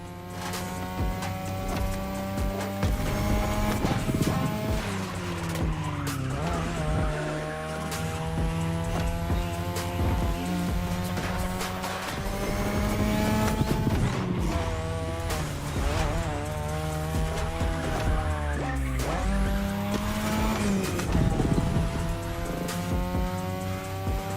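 Race cars in a touge mountain-pass racing video game, engines droning and shifting pitch continuously with tire squeal, steady and moderately loud with no talk.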